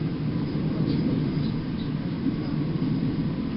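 A Metrolink tram runs as it approaches a stop, giving a steady low rumble and rolling noise from inside the car, with no break in the sound.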